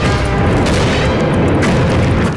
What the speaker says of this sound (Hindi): अक्षयपाजी एक तोप उठाते हैं और तोप से इस बंदे के ऊपर हमला कर देते हैं